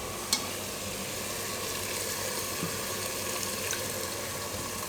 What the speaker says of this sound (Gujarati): તો આમાં આપણે થોડુંક જ પાણી નાખીશું,